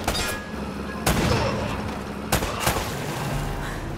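Gunfire crackles in an ambush in the video game Uncharted: Drake's Fortune, with several sharp loud shots over a noisy background, mixed with raised voices of characters talking.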